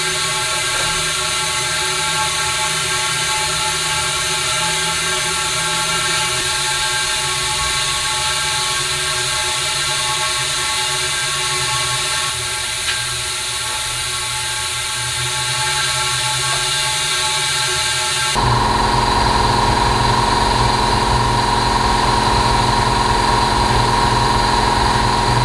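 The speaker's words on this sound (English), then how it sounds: "There again, as the air compressor's making a bunch of noise." Air compressor running in a workshop where valve springs are being changed on an air-cooled VW Type 1 engine, a constant loud mechanical hum and whine that shifts to a higher, busier tone near the end, with no talking.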